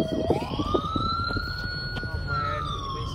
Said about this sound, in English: I'll turn my siren.